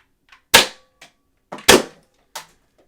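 A modded Twoer foam dart blaster by Sillybutts fires two sharp, loud pops about a second apart, each surrounded by softer clicks and clacks of priming and handling.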